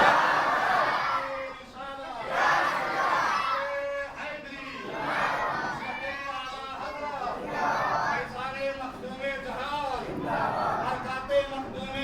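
A mosque crowd gathered for a Khatm-e-Quran chants the Takbir slogan in loud rhythmic call-and-response waves of massed voices, repeating several times close by.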